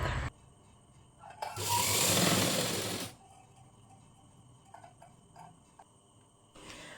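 A sewing machine stitches blouse fabric in one loud, steady burst of about three seconds, then falls to a quiet background of faint ticks and handling sounds.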